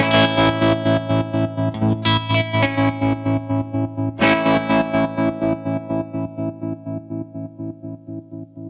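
Guitar through a Thrilltone Great Escape tremolo pedal set to square waveform, chords chopped into a pronounced, even on-off pulse that keeps pumping rhythmically as the notes slowly fade.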